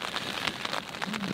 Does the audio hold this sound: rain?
yes